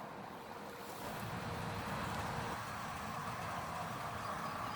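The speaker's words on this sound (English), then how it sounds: "Looks like the water is boiling." Water coming to a boil in a pot on a camp stove at a stealth campsite, a steady broadband hiss and rumble that swells slightly after the first second and holds evenly throughout.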